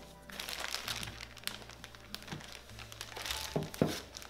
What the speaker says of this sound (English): And then place it in a Ziploc bag.